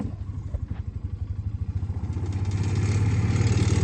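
A Polaris UTV engine pulls a Kifco B140G hose reel, chugging steadily at close range with a rapid pulsing beat that grows louder and more sustained as it works harder.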